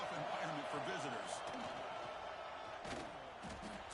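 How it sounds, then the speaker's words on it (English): Dense, steady roar of a stadium crowd at a college football video game, Ole Miss playing at Tennessee, filling the whole stretch with broad noise and a few louder surges, heard with game sounds underneath. "Listen to the crowd energy here in the early going."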